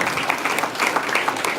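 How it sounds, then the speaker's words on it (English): A meeting audience breaking into applause, a dense, fairly loud patter of clapping hands filling the short stretch. "give us a round of applause."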